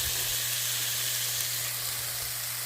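Black beans simmering with onions and poblano peppers give a continuous, even sizzle and bubbling hiss with a low hum beneath, nearby and steady.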